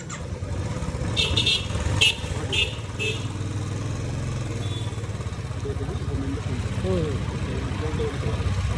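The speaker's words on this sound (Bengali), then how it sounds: "কলকাতার রাস্তায় রয়্যাল এনফিল্ড বুলেট চালাচ্ছে" A Royal Enfield Bullet 350cc motorcycle rides through Kolkata city streets at night, its steady low engine thump running throughout with traffic noise around.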